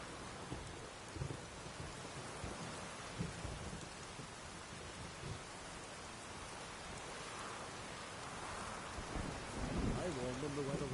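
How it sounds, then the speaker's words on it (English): Steady rain hisses through a storm in The Witcher 3, with low thunder rumbling beneath it and a heavier roll building near the end; the whole downpour stays fairly distant and even. "A storm, damn it."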